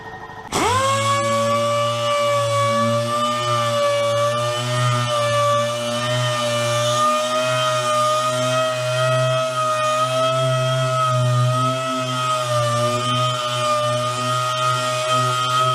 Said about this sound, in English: I am not going to be going full speed on the DA